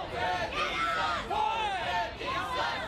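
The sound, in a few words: vocal crowd cheering at the Bay City Brewing Company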